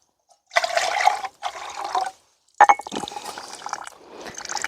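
Water is poured in several short, splashing bursts separated by brief silences, close and fairly loud, with no voices.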